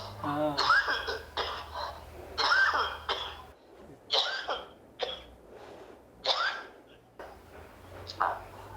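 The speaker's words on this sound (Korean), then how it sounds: "아빠 기침 많이 나오나?" A father with a cough is heard over a phone line, giving repeated short bursts of coughing and throat clearing at a moderate level, with gaps of line noise between them.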